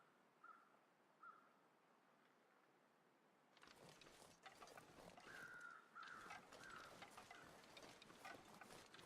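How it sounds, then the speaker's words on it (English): Crows caw in the video game The Long Dark, two faint calls over a quiet background, then a louder stretch of wind and crunching movement with a few more distant caws. "There are a lot of crows over here."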